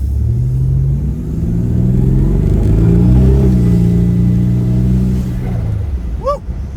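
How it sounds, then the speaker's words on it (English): A 1989 Pontiac Turbo Trans Am accelerating hard to 60 mph, its engine note rising in a loud, close, rumbling climb that eases off near the end, followed by a brief voice. "Now I just rolled the throttle, didn't even get past quarter here."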